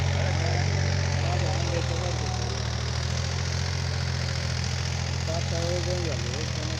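A tractor engine idles with a steady low chugging throb throughout on a farm after soybean harvest, while people talk over it.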